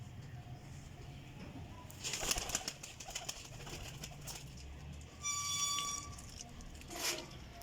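Pigeons cooing in a loft, soft low coos and bird calls heard close up over a faint background hum, with a brief bright chirping burst partway through.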